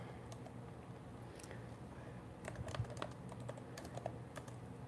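Fairly quiet, steady typing on a computer keyboard, with scattered irregular key clicks running throughout over a low background hum.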